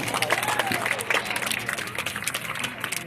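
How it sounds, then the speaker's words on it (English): Audience clapping at an outdoor bird show after a falcon's catch, a steady patter of many hands close by for a few seconds, with some crowd murmur mixed in. "Let's give her a round of applause for that"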